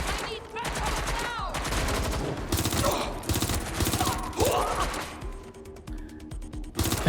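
Rapid bursts of video game gunfire from Watch Dogs: Legion crackle loud and dense, shots rattling in quick volleys with mechanical clatter between them.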